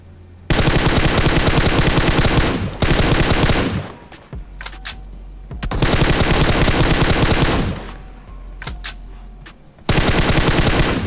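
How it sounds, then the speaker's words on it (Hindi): Loud bursts of automatic rifle fire from the mobile battle royale game PUBG Mobile, three long sustained volleys separated by short gaps with scattered single shots in between. "मैंने आपसे पहले ही बोल चुका है कि भाई मेरी गोलियां ऑटोमेटिक चल रही थी"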